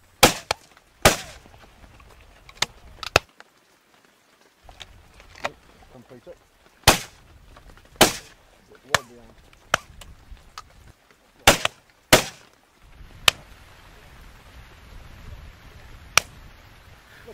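Shotgun shots ring out across open moorland during a driven grouse shoot in Farndale, sharp loud cracks spaced irregularly, some in quick pairs, with soft wind and ambient noise between them.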